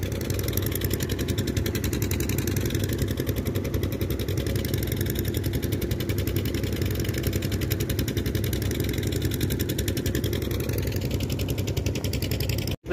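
Motorcycle engine running steadily at a riverside ghat, a loud continuous low rumble holding level for about thirteen seconds with no pauses and no speech, cutting off abruptly at the end.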